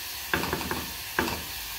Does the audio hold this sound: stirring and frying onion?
yes